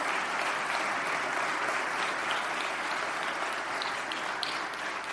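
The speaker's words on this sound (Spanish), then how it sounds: "Denle un aplauso de gratitud a Dios." Church congregation clapping in gratitude during a sermon, a steady, even wash of applause from a large room, moderately distant and continuous without speech.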